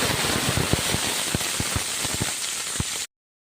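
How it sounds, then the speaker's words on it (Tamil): Mustard seeds and curry leaves crackle in hot oil in a large pot cooking for thirty people, a close, busy spatter of sharp pops over a steady sizzle, ending abruptly. "இப்போ வந்து கடுகு போட்டாச்சு இது கூட வந்து ஒரு அஞ்சாறு கொத்து கருவேப்பிலை வந்து சேர்த்துக்கலாம்"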